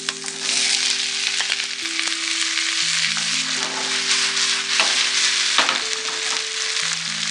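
Steady loud sizzling of tomato frying with onion in a pan, with occasional stirring scrapes and a low hum running underneath, no talking.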